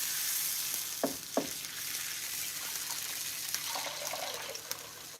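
A hot pan deglazed for a beef pot roast sizzles steadily with a bright, hissing wash, broken by a couple of sharp scraping clicks and small bubbling bursts toward the end.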